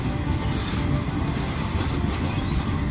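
Freight train with boxcars rolling past close by, a steady loud rumble of wheels and cars with faint squeal and clatter throughout, no voices.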